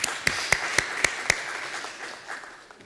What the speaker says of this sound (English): let's give a bit of applause to the guys.